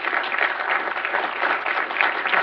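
Steady, dense audience applause filling a hall at a book event on Clarence Thomas, continuous broadband clapping with no voices over it.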